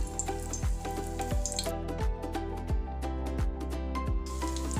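Chicken kheema kebabs fry in hot oil, sending out a continuous, even sizzle that runs steadily under rhythmic background music, with no talking.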